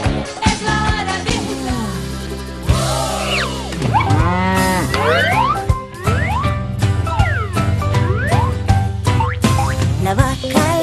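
A cow moos repeatedly within a cheerful Spanish-language children's song about a cow, the sliding lowing calls riding over a loud, busy band arrangement throughout.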